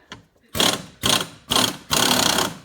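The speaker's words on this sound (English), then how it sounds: "just make sure that you're grabbing at least a thread or 2. Get at least a thread above the nut." An impact or ratchet tool tightens a nut during a spring install on a Fox Body Mustang suspension, firing four loud, close bursts of roughly half a second each in a quick even rhythm.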